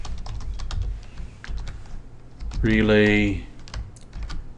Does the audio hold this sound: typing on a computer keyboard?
yes